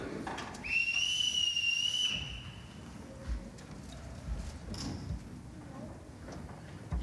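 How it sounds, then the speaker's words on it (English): A sharp, shrill whistle blast rings out over a background of footsteps and room noise, followed by quieter shuffling and faint movement. "Everybody in this house answers to a whistle."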